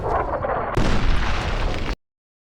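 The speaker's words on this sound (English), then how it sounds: "I make it through the Boomers' artillery barrage first try." An artillery barrage in Fallout: New Vegas, heard as a loud, continuous rumbling roar of blasts that cuts off abruptly after about two seconds, with no voices.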